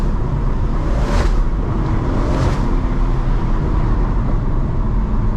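Tuned BMW M140i with about 300 extra horsepower, its steady low engine thrum droning continuously while driving, with two brief louder surges partway through.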